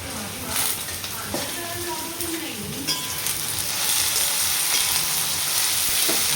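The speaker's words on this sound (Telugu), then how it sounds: "దొండకాయ కొంచెం వేగినాక ఇప్పుడు మిర్చిలు వేస్తాం." Ivy gourd and green chillies fry in a pan with a continuous crackling sizzle that grows a little louder, punctuated by light stirring clinks, with a brief murmur of voice early on.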